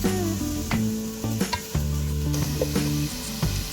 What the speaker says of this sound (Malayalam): ഈ സവാള ജസ്റ്റ് ഒന്ന് ട്രാൻസ്പെറൻ്റ് ആകുന്നവരെ വഴണ്ടാൽ മതി